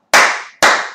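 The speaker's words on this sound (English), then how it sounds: "give yourself a champagne clap" Two sharp, loud claps, evenly spaced about half a second apart, each with a bright popping attack and quick decay, clapped as a champagne-style clap.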